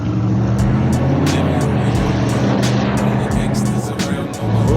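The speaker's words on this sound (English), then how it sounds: "it's a mean as American car. It's a V8. I don't know what it is. It sounds divine." Throaty American V8 car driven by a boy racer rumbles past nearby, a deep steady engine drone with pulsing low exhaust tones and a brief dip before returning.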